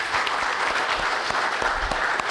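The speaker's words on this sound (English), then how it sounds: "A big round of applause for all of you." Audience applause at a youth competition event, a dense steady wash of many hands clapping throughout, loud and continuous with no voices standing out.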